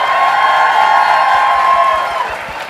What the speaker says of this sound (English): could we just have a rapturous applause, whooping, hollering